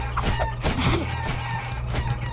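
Game chickens in Guacamelee! squawk and cluck in quick rising bursts over a steady low game soundtrack, with a harsh crow-like call near the middle.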